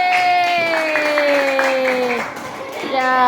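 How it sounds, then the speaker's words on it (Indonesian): Classroom clapping for a student group, with rhythmic hand claps under sustained children's voices chanting or singing together at close range. "tepuk tangan kelompok 4"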